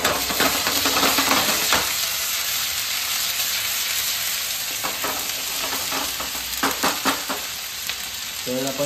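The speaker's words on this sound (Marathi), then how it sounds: "त्यानंतर त्याच्यात आपण अद्रक लसूणची पेस्ट टाकूयात." Ginger garlic paste fries in a hot pan for a paneer butter masala, a steady close sizzle with stirring scrapes and a few clinks of utensil on the pan, no voices.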